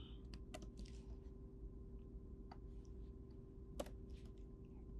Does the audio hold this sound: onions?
no